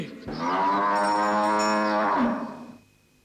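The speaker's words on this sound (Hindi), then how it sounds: "किसके लिए रंभा रही हो आज?" A single long, loud cow moo rings out close by, holding a steady pitch for about two seconds before fading, with no other sound around it.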